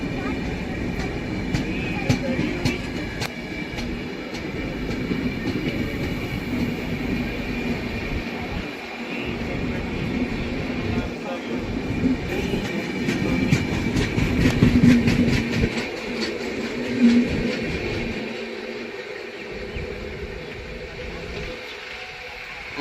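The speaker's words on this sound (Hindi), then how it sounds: "निकल गई भाई मालवा एक्सप्रेस।" Indian Railways Malwa Express passing close alongside while riding aboard the Swaraj Express, with a steady rumble and rolling rail clatter. Rhythmic wheel clicks build and swell toward the middle, and a person talks over the noise.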